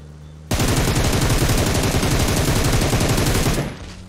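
Sustained rapid burst of automatic gunfire in a shooter video game, loud and continuous for about three seconds, then cutting off abruptly with no talk over it.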